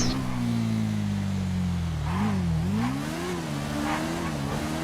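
A Hayabusa motorbike in GTA V holds a loud, close engine drone that dips and climbs through several revs in quick succession, with faint tyre noise and no voices.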